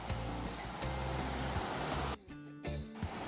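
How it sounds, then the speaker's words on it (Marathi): Washed prawns fry in a masala with a dense, loud hiss and crackle and a low hum beneath. The sizzle dips briefly near the end, then picks up again. "आता त्यामध्ये स्वच्छ धुवून घेतलेली ही कोळंबी ॲड केली"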